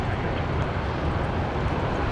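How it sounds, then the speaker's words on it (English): A Qantas Boeing 737-800 arriving from Sydney lands on runway 19 left at Brisbane Airport at night, a steady, broad jet roar held at even loudness throughout, with no talking. "Qantas 542 coming in from Sydney, the 737-800s here on runway 19 left"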